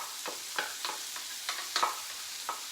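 Dry rice is stirred and tossed in a hot pan for Cuban chicken and rice, giving a soft continuous rustle broken by repeated light scraping and grain-rattling strokes at an uneven rhythm.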